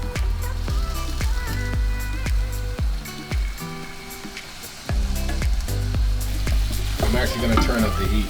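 Food fries loudly in homemade garlic chili oil for a lobster tail omelette, a close, continuous sizzle broken by sharp clinks and scrapes of a utensil stirring in the pan.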